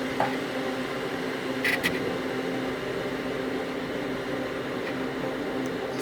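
Xiaomi Mi Smart Electric Kettle heating water, a steady rushing hiss with a faint low hum that holds evenly throughout, close up, with a couple of brief light clicks early on.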